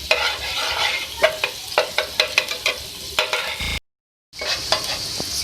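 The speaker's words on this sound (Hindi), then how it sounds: "इसको फ्राई करेंगे।" Chopped garlic frying in oil in a pan, a continuous sizzle broken by sharp stirring scrapes and clicks, with a brief cut to silence partway through.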